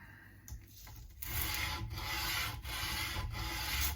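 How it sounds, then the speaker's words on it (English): An Epiphone Les Paul guitar nut is sanded with coarse 80 grit sandpaper, producing close, steady scratchy rubbing strokes with brief breaks between passes after a few initial handling sounds. "So I'm on the 80 grit at the moment, taking down sort of quite a lot of material in one go."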